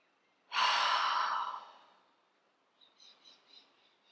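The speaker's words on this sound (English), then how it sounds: "take a deep breath" A single deep inhalation, close and fairly loud, swells for about a second then fades out, followed by faint soft breathing.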